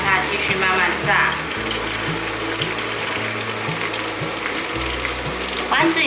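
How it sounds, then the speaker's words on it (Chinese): Tofu and shiitake balls deep fry in a pot of oil, a loud continuous bubbling sizzle with occasional clinks of a utensil gently nudging them, no talk. "再让它继续慢慢炸。"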